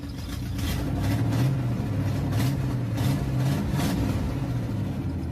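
An old car engine, just cranked over, runs steadily with a low, even rumble and a faint rhythmic pulse, close and alone, with no talk.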